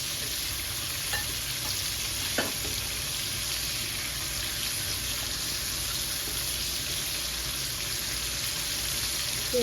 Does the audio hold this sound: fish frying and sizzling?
yes